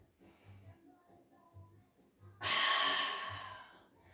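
A loud, long exhale of breath during a Pilates exercise, rising suddenly after quieter soft breathing and low murmurs, then slowly fading.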